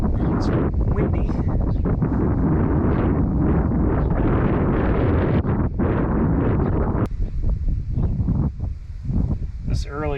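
Strong outdoor wind roars and buffets the microphone continuously beside a classic 1966 car, a dense rushing noise that barely eases throughout.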